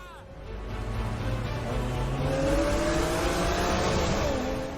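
A BMW M3 E36 race car drives fast on a circuit, its engine note rising as it accelerates and passes, loud and sustained with an excited voice speaking over it.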